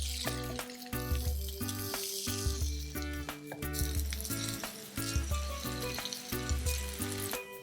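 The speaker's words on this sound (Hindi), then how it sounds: "जो पनीर के पीसेस हम डालेंगे ना तो एक सिजल आएगा" Paneer pieces sizzle in hot oil on a tawa, giving a close crackling fry with sharp pops and taps, steady and moderately loud, with no talking.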